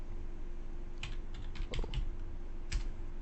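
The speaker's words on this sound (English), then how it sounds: "I'll just type this XU power sharing" Several quick keystrokes on a computer keyboard arrive in short scattered clusters over a low steady hum, close and moderately loud.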